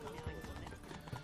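Horse hooves clip-clop in The Witcher 3: Wild Hunt, a couple of soft, quick hoof falls under someone talking over game sounds.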